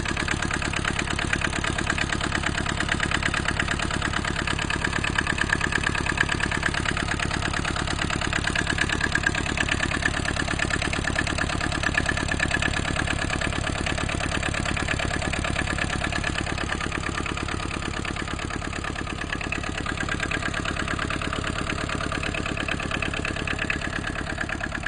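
An Aixam City Premium microcar's small engine idles steadily for the whole stretch, a constant mid-pitched rattling hum heard close up with no one talking.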